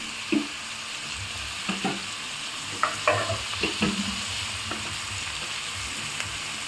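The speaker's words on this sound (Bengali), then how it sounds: "এবার এগুলোকে আমি ভালো করে ভেজে নেব।" Onions with a small whole garlic bulb fry over raised gas in a pan, a continuous sizzle broken by several sharp scrapes and knocks of a spoon stirring; no talking.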